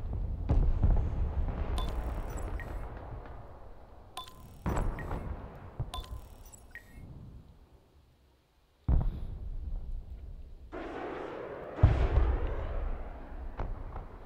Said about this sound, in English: oh, it's got artillery fire.